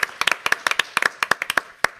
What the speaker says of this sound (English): Okay, so let's just give him a round of applause.